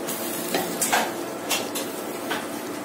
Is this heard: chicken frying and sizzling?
yes